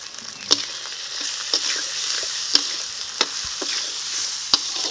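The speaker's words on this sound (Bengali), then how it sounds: "মশলাটাকে ভালো করে কষিয়ে নিতে হবে।" A paste of ginger, garlic, cumin and dried red chilli with turmeric, salt and chopped tomato sautés in a pan for desi chicken curry, a constant hiss punctuated by regular spoon scrapes and taps roughly every second.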